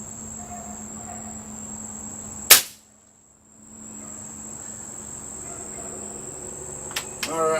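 A single sharp crack from a Crosman Nitro Venom .177 pellet rifle, loud and close, followed by near silence and then steady insect chirping outdoors, with a faint click near the end.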